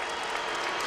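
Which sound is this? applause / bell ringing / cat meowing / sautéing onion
applause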